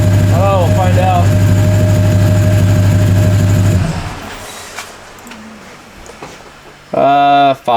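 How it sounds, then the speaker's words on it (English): A supercharged Hellcat engine swapped into a 1972 Dodge Demon runs on a dyno, a loud, steady, harmonic roar for several seconds that drops off and then returns in a brief burst, with people talking nearby. "what was the squeal noise? The belt. The supercharger belt was squealing?"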